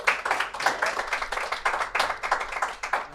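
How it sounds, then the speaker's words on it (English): Small audience at a talk on obesity clapping in applause, a close, loud run of quick individual hand claps with an uneven rhythm that stays busy for the whole stretch. "Let's give a round of applause."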